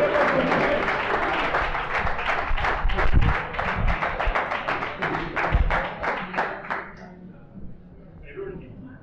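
Audience at a homebrewing competition award gala applauds, a run of evenly spaced, fairly close claps that thin out and fade toward the end, with voices mixed in.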